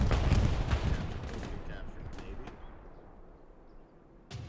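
Machine gun fire in the WWII shooter Hell Let Loose, dense rattling bursts and booming shots up close at first that thin out into scattered distant reports, with a final burst at the end.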